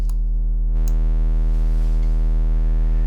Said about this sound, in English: that's what it sounds like cranking the sine wave out